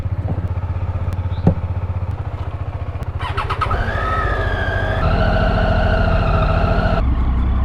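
A Triumph Tiger 800 motorcycle is ridden along a road toward Munnar, its engine loud and close, droning steadily before revving up through rising pitch and settling into a sustained roar.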